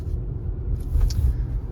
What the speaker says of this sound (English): So I've been driving around this small street testing the transmission, and it's doing fine so far.